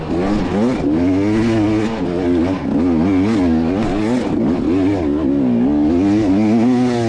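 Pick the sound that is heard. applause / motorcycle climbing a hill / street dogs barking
motorcycle climbing a hill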